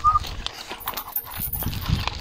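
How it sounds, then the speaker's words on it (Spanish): A dog in a forest at night makes short sounds among footsteps and rustling, with a brief high tone near the start; the sounds are fairly close and no one speaks. "hay un perro aquí"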